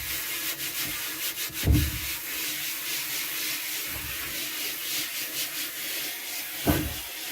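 An old tea towel rubs across a wooden shelf to wipe off oil residue, making a steady, close, soft scrubbing hiss broken by a few louder thumps of the cloth and hand.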